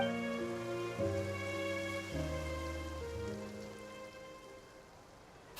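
Steady, soft rain falls in a Genshin Impact cutscene, an even hiss of drops that continues under sustained music chords.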